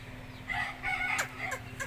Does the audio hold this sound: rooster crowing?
yes